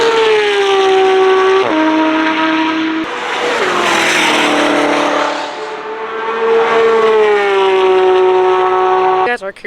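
An Audi R8 and a Porsche GT3 race on the VIR circuit at a track day, with a loud, high-revving engine howling close by. The pitch drops sharply at gear shifts and climbs again, and a rushing burst of noise sweeps past midway.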